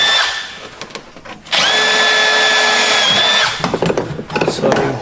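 A power drill drives screws into 9mm V-groove plywood panels during a Troopy build: one sustained high whine, then several short, sharp bursts nearby.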